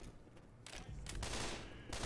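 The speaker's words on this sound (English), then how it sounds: "Stop getting in front of me when I'm firing my gun" Bursts of rapid video-game gunfire play in short volleys separated by brief pauses, loud and close, with no speech.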